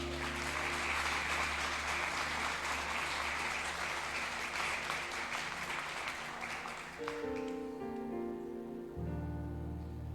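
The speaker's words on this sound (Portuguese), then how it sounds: "Vamos dar uma salva de palmas ao Senhor Jesus." A church congregation claps for Jesus in a dense, sustained round of applause over a held keyboard chord. The clapping fades after about seven seconds as sustained musical notes take over.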